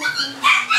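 A puppy gives a few quick high yips and whimpering barks close by, short and loud.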